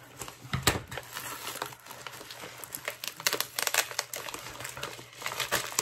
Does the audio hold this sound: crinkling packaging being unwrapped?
yes